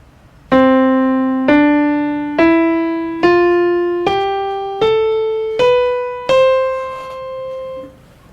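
An ascending diatonic scale of eight notes, do up to high do, played in a music theory lesson, each tone struck clearly and left to ring and fade before the next, evenly spaced and alone.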